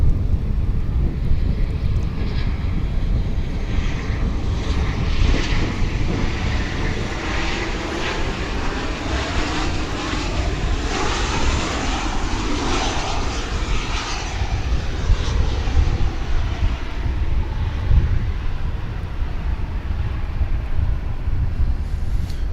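Airplanes at DFW International Airport, watched from the west side of the field, give a steady, loud engine roar with wind buffeting, rising and falling gently for over twenty seconds without any talking.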